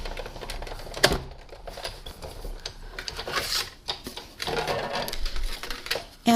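A Big Shot die-cutting machine is hand-cranked to emboss a note card, giving a series of irregular clicks, ratcheting creaks and soft mechanical knocks close by, with uneven bursts and short pauses.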